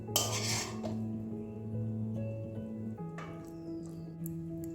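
Fried dhekia fern greens are moved into a bowl with a few light metallic clinks and scrapes of utensil against dish. A quiet background hum runs throughout, and no one speaks.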